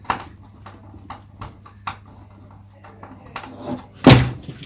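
A model-building support knocked over in a workshop, landing with a single sharp clattering thud near the end, after several quieter knocks and taps over a low steady hum.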